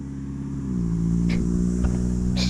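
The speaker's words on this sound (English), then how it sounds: "Just had this random guy drive past me and be like, "Hey bro," from his car." A car passes close by on a street, its engine hum rising and holding steady with a few brief rattles and knocks over the top, moderately loud throughout.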